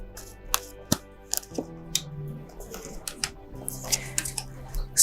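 Tarot cards are shuffled and three are drawn, with sharp close snaps and flicks of card stock among quieter rustles, in short irregular bursts.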